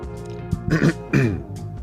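A man clears his throat twice in quick succession, close and fairly loud, with a short gap between the rough rasping bursts and quiet room tone around them.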